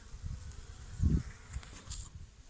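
Bees hum in a low, steady drone close by, one swelling louder for a moment before settling back into the buzz.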